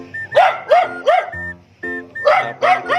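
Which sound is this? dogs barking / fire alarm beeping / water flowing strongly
dogs barking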